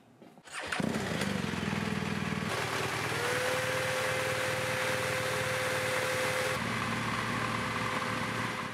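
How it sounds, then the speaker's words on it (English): A BMW R1200GS motorcycle engine starts and settles into a steady idle after a coolant refill, a loud continuous close drone with a rising whine partway through. "start the engine, and bring it back up to temperature again"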